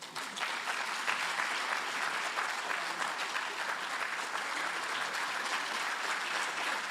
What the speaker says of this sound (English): let us give them a warm round of applause